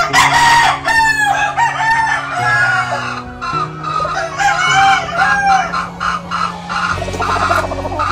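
A Blueface Hatch gamefowl rooster on a game farm crows loudly several times in a row, along with some clucking, over a steady musical backing.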